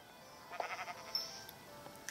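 Sheep in the Minecraft video game bleat a few times, fairly faint and short, over a quiet game background with no talking.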